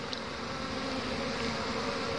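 Honey bees swarm around a hive box, a dense continuous buzzing drone close to the microphone with no talking.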